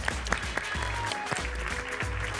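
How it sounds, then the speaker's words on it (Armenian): A studio audience at an Armenian TV show applauds, a dense, steady wash of clapping that fills the whole short stretch at an even level. "ծափահարենք"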